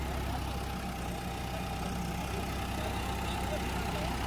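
A John Deere tractor drags an 8-foot rotavator through earth with a constant heavy engine rumble. Low voices may sit beneath the drone.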